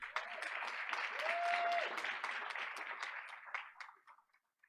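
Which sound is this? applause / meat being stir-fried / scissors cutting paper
applause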